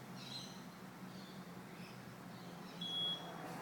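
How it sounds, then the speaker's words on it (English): An SP Pro inverter charger gives a warning alarm, a faint high electronic tone that rises briefly near the end over a steady low hum, with soft chirping blips earlier. "it'll start sounding a warning because it realises that your main battery cables are not hooked up yet"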